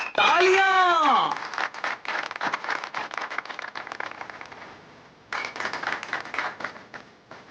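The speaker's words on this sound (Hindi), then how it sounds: "तालियां" Applause from a magic-show audience: dense, steady clapping runs for several seconds, briefly dips, then surges again. A short voiced cry opens the passage.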